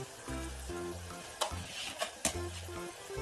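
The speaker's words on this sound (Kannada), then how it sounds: "ಈಗ ನಾವು ಇದನ್ನ ಉಪ್ಪಿಟ್ಟು ಒಗ್ಗರಣೆ ಹಾಕ್ತೀವಿ ನೋಡಿ." Oil sizzling in a pan as tempering (oggarane) is prepared with roasted peanuts for kus kus upma, a steady crackling hiss broken by a few sharp stirring clatters of a spoon against the pan.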